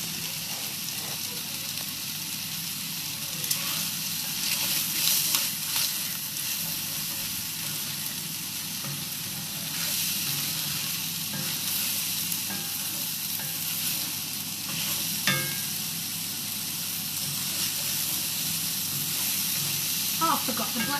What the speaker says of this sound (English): we're just waiting for the mushrooms to cook down now